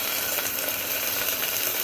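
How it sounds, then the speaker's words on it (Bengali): Fish lightly frying in a little oil in a pressure cooker with cumin seeds, a steady even sizzle that holds without a break, fairly loud and close with no voices. "এবারে মাছটাকে জাস্ট হালকা করে একটু ভেজে নেবো"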